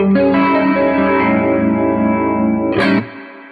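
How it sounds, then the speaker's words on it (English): An electric guitar plays through the rotary Leslie-style setting of a Strymon Mobius pedal, a sustained chord swirling with warbling modulation and a scrape near the end before it cuts off. "my personal favorite here is the rotary sound"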